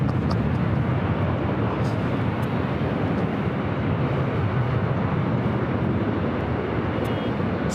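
A Delta Boeing 757 airliner roars on takeoff at LAX, a loud, continuous broadband jet rumble holding steady throughout.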